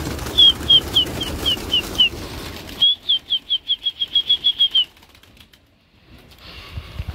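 Pigeons let out of a loft flap their wings close by in rapid bursts of clapping beats, a short run followed by a longer fast volley, then fading to near quiet.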